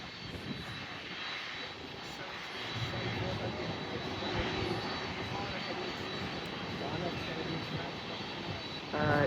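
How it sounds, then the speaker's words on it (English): A United Airlines Boeing 767-400ER jet bound for Newark gives a broad, steady engine roar that swells slightly mid-clip and stays fairly distant, with faint voices around it. "this is United Airlines 1173 heading to Newark"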